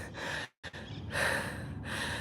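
Heavy, huffing breaths while walking up a hill: a couple of loud, rough exhales and inhales close to the mic, with a brief pause between them.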